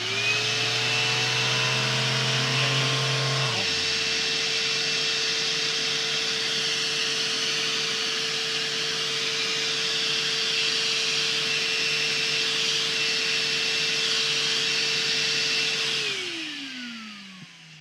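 A small bargain workshop HEPA vacuum switched to its power takeoff setting, a loud steady whine and broadband roar that shifts pitch early on as it kicks in, then winds down near the end; no talking.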